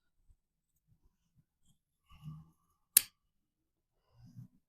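Sharp scissors cut through several stacked layers of fabric. In near silence, there are a few soft rustles and one crisp, close snip midway, followed by a faint shuffle of the pieces.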